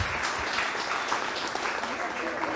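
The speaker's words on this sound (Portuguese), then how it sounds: "Vamos dar uma salva de palmas à Corte de Contas Roraimense." Dense applause from an audience at a time-management talk held for the Roraima audit court, continuous close clapping throughout with a faint voice mixed underneath.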